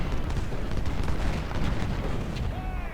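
Massed musket volleys in the Civil War video game Ultimate General: Civil War, at the Battle of Prairie Grove, rolling as a dense, continuous crackle and boom of distant gunfire under battle noise.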